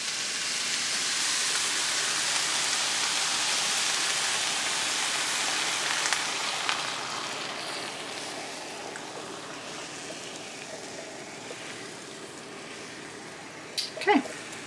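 Beaten eggs mixed with almond milk hitting a hot pan, a broad soft hiss that gradually fades over the span, with a faint clink near the end.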